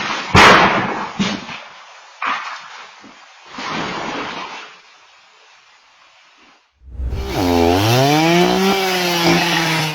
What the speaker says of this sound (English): That weed whacker taking his job so seriously, you'd think it's looking for a promotion.